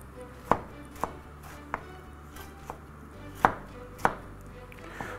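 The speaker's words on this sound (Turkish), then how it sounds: "Domatesleri böyle küp küp doğrayın." A knife dices tomatoes into cubes against a cutting board, about eight crisp, irregularly spaced strikes over a low background hum.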